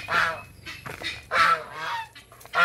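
Geese honk loudly and close by in a backyard with turkeys and hybrid chickens, several harsh nasal calls in quick succession with brief pauses between them.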